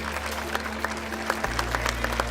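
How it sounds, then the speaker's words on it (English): An audience applauds at an outdoor monument dedication in New Orleans: scattered, fairly light handclaps continue steadily over a low background hum. "Yes, you can absolutely applaud to that."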